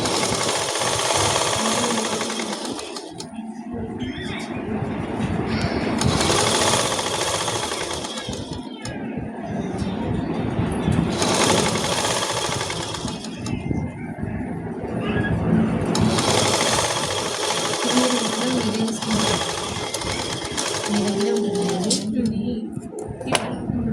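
Sewing machine stitching a ghagra skirt, running in long loud bursts of rapid mechanical chatter with short pauses between runs, with speech heard alongside.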